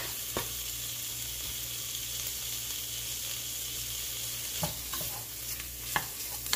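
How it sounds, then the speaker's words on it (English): Two slices of bacon, sliced up, frying in a pan for a fish chowder, a bright continuous sizzle with a few sharp pops and utensil clicks near the end. "now I am going to add two slices of bacon that I've just"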